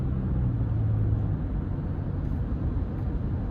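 Cabin of a 2025 Toyota Sienna XLE AWD with a four-cylinder non-turbo engine accelerating in eco mode, a steady low engine drone and road rumble heard from inside, continuous and moderately loud.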